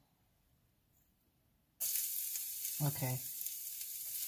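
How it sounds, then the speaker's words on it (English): Garlic hitting hot oil for a vegetable medley, silence broken by a sudden loud, close sizzle that keeps crackling steadily, with a short spoken word partway through. "And then I'm going to saute this garlic"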